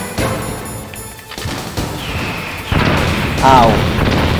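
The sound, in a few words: gunfire in the video game Metal Gear Solid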